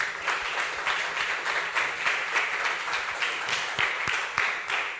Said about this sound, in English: Big clap for Professor Nozaka.